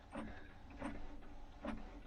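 A large A3 or SRA3 printer printing on a wobbly table, with three evenly spaced mechanical passes that whir and rattle over a steady low hum.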